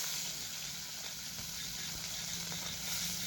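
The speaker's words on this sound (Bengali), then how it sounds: "এবারে ওই কড়ায় আরও কিছুটা তেল দিয়ে মাছগুলো ভেজে নিচ্ছি।" Small fish frying in oil in a kadai, a steady, even sizzle with soft bubbling crackle throughout, moderately quiet and continuous.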